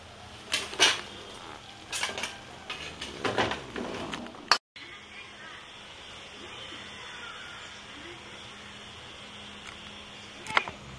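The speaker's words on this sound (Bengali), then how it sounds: "আমি এবার মাংসটা নামিয়ে দেবো।" Cooked oil-free chicken taken off the heat in a pot, with a few clinks and scrapes of metal cookware in the first half, then a quiet stretch of low background hiss with one faint knock near the end.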